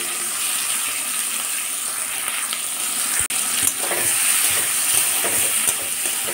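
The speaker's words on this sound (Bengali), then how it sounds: "কড়াতে আমি 2 চামচ মতো তেল দিলাম চিংড়ি মাছটা ভাজার জন্য।" Shrimp fry in about two spoons of hot oil in a wok, giving a steady, fairly loud hiss broken by one sharp knock and a few light scrapes of stirring.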